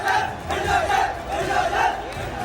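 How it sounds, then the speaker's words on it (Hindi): Agitated protest crowd in Guna shouting together in rising and falling waves of massed voices, loud and close, with chant-like surges and no single clear speaker. "भीड़ उग्र हो रही है।"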